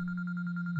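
A video game phone rings with a steady electronic warble, a sustained tone pulsing rapidly and evenly, clear and alone.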